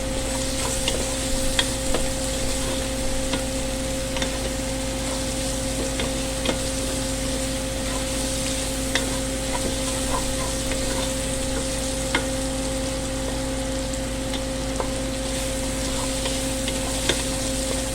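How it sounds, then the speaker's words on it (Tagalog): Basa fish browns in a frying pan with a steady, close sizzle and frequent small crackles and pops, broken by occasional light stirring clicks, and nobody speaks. "Medyo pa-brownin ko lang ito guys"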